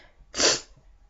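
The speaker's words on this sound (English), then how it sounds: "I've been sneezing all day" A single sharp, close sneeze bursts out abruptly, then quiet breathing follows.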